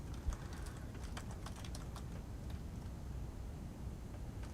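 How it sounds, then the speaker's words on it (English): Quiet, quick tapping on a computer keyboard, a short burst of light keystrokes at close range over a low background hum, with no talking. "Let's type it in."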